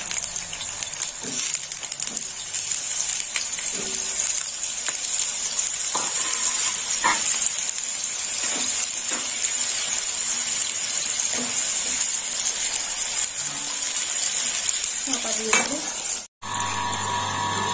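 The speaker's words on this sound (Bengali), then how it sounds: "আলুগুলো ভেজে নেব।" Potatoes frying in a pan of oil for a banana-flower curry give a steady, close hiss, broken by scattered stirring clicks and utensil taps throughout.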